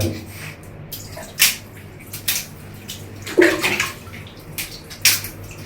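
Tap water splashes and gurgles in intermittent bursts during bathroom cleaning, with a few sharper splashes standing out over a low steady background hiss.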